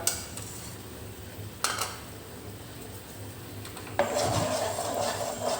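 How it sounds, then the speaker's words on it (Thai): Fried snakeskin gourami is tossed in sweet-sour-spicy chilli sauce, with metal utensils scraping and clinking against a pan, a few sharp knocks and a steady rubbing stir close by. "คลุกเคล้าให้เข้ากันครับผม"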